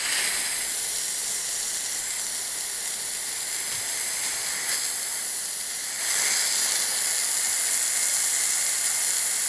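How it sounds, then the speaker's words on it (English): A Vapamore handheld steamer, used against bed bugs, gives a loud, continuous close-up hiss of steam that holds steady throughout and swells slightly near the end. "You hear that steam hissing?"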